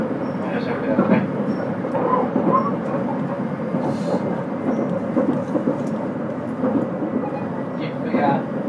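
Steady rumbling roll of a JR West 681 series limited express train running from Kanazawa to Tsuruga, recorded from inside the car, with continuous wheel and track noise throughout and faint clatter and hum.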